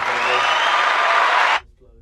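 Steady broadband applause from an audience fills the first second and a half, then stops abruptly, leaving faint low rumble.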